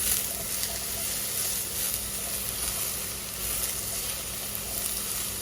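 Onions hit a hot pan of beef stir fry on medium heat, giving a steady, close, hissing sizzle that holds evenly throughout with no voices.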